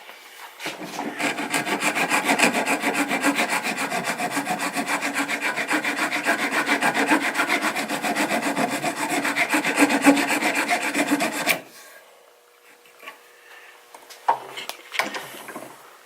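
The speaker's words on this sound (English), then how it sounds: "What I like to do is round the back of the nut." A bone guitar nut is filed and rounded along its back, giving a steady, close rasping scrape that runs continuously for about eleven seconds before stopping abruptly, followed by a few faint handling knocks.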